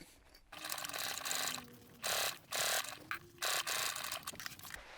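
Sewing machine basting bag pieces in place, running in several short, close bursts of fast mechanical whirring with brief pauses and light rustling in between.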